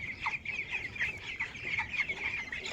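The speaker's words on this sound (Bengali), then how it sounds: "এই যে দেখেন মুরগি মুরগির সাইজগুলো দেখেন" Chickens on a poultry farm cluck in short, repeated bursts at moderate distance, with several birds overlapping and no talking.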